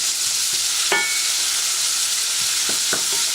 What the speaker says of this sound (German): Also die Zwiebeln nur glasig so andünsten.